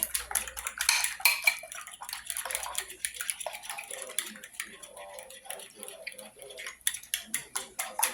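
A utensil beats eggs in a bowl for a cheesy chicken parmesan, rapid clicking strikes against the dish in bursts, close and fairly loud, with a voice speaking over parts of it.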